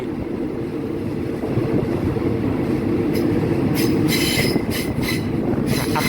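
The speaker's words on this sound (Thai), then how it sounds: "ถ่ายจากขบวนรถธรรมดาที่ 254 หลังสวนทนบุรี" Ordinary passenger train no. 254 rumbling along the rails near Ban Kluay station in Thailand, a steady loud low roar of wheels with brief bright metallic squeals and hisses toward the end, no talking.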